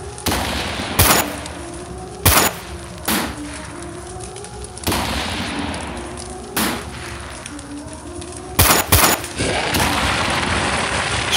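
Gunfire sound effects in a Bengali audio ghost story: sharp, loud shots ring out in irregular bursts, some close doubles, each followed by a decaying echo over a low dramatic background.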